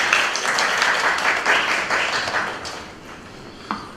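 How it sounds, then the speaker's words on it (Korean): A seminar audience breaks into sustained applause to welcome a speaker at a Korean policy forum on women in the IT workforce, dense clapping that gradually thins and fades toward the end. "큰 박수로 모셔주시기 바랍니다."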